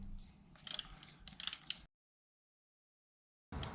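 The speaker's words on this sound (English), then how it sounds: "I'm going to go through each one of these spark plugs now and just torque them to 14 pounds." Torque wrench ratcheting while spark plugs are tightened on a 2.5L QR25DE engine in a 2013-2018 Nissan Altima, two quick bursts of close clicking, then silence before another rattle starts.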